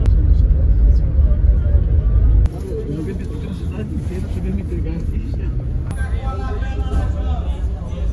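A long-distance coach travelling from São Paulo to Rio de Janeiro drones along with a steady low engine rumble and road noise, heavy at first and then softer, with faint voices in the cabin.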